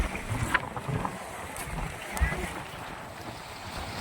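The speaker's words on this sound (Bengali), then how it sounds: "বেশ হাওয়া দিচ্ছে এখানে" Steady wind buffeting the microphone at the Digha sea estuary where river meets sea, a broad rushing roar with occasional gusty thumps and faint water wash.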